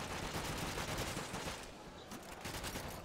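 Continuous, fairly faint gunfire from a wall-bought weapon in Call of Duty Nazi Zombies, dense rapid shots that run without pause through the clip.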